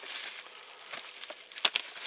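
Crinkling, crackling sound of adhesive tape being peeled off a FeelTech FY3224S DDS signal generator, with a few sharper snaps near the end, close and fairly quiet.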